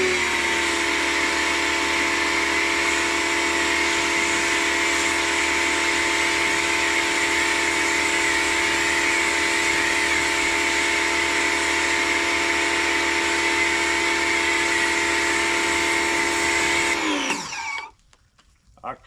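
A W6 2600PSI electric pressure washer running at a constant high-pitched whine with a steady hiss, loud and unbroken before cutting off abruptly near the end.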